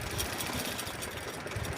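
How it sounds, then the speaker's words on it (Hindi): Sewing machine running steadily to stitch a kurti side seam during a hip alteration, a continuous close mechanical whir with fast needle rhythm and no pauses. "तो अब हम इस पर सिलाई कर लेंगे।"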